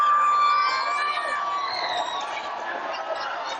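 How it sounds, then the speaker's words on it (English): A community-center arena crowd at a varsity ice hockey game roars and cheers after a short-handed goal, a dense sustained wash of noise that slowly eases over a few seconds. "Luca Filicamo ignites the crowd here at the Woodbridge Community Center"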